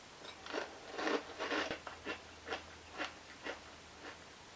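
Someone eats Cap'n Crunch Sprinkled Donut cereal with milk, close-up crunchy chewing in a steady series of about ten bites and munches, fairly quiet with no talk.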